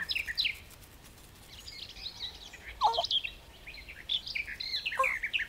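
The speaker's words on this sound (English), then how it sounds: "Do you hear that? I wonder what bird that is." Outdoors, a wild bird sings bright, high chirping phrases in short bursts, with a brief pause and a couple of lower notes, over a soft background hiss.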